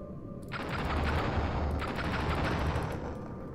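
Dense, loud gunfire in an indie horror game rattles in a sustained rapid volley lasting several seconds, close and overlapping, with no talking.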